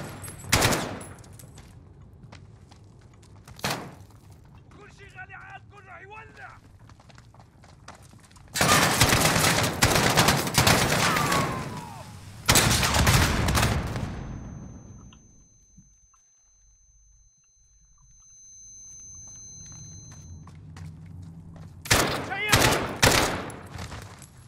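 Bursts of rapid gunfire and sharp blasts in Call of Duty: Modern Warfare erupt in loud clusters, separated by quieter stretches and a faint low rumble.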